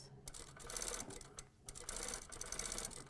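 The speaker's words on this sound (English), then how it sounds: "Needle in the fabric, lift the foot, pivot." A sewing machine stitches fabric for a patch pocket on trousers in short bursts, stopping briefly while the needle stays down and the presser foot lifts to pivot, then running again close and steady.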